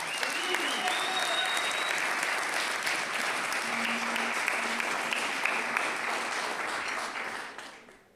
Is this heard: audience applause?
yes